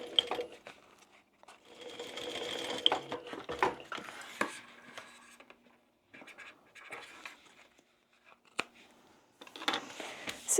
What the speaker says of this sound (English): So now I'm going to top stitch down both sides.